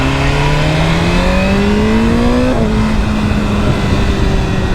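BMW S1000RR motorcycle accelerating hard, loud and close, engine pitch climbing through a gear before a quick shift, then pulling again.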